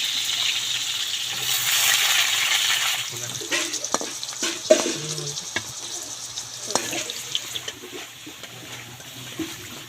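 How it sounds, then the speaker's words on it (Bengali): Potatoes frying in a little oil in a home kitchen, a steady hiss of sizzling with scattered clinks and stirring scrapes, while a voice speaks intermittently over it. "এখানে এই যে কিছু পরিমাণে তেল দিয়ে আলুটাকে আগে ভেজে নেওয়া হচ্ছে"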